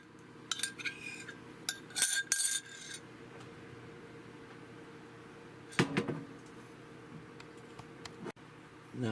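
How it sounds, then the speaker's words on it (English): A spoon stirs yogurt cultures into a milk mixture in a pot, giving a few bright clinks and scrapes in short bursts near the start and again briefly later, over a quiet background. "Now take our spoon and mix all the cultures into the milk mixture here."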